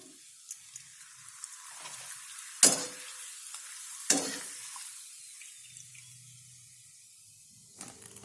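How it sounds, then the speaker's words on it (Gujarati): Potato papads fry in hot oil with a quiet, continuous sizzle, broken by two sharp crackling bursts and occasional clinks of a utensil, heard up close without talk. "તો આ રીતે આપણે બધા જ પાપડને તળી લઈશું"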